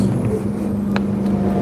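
Steady low engine hum and road noise inside a moving bus, with a few brief rattles or clicks over the constant drone.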